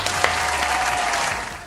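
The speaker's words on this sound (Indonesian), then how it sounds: "Tepuk tangan." Applause sound effect at the close of a Samsung Galaxy A33 5G smartphone review, a short steady burst of dense crowd clapping with a low hum underneath.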